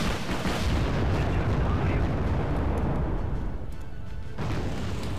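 Wargame Red Dragon battle with artillery fire, gunfire and a supply depot blowing up, dense overlapping booms and bursts rolling almost without pause, loud and continuous with a brief lull near the end.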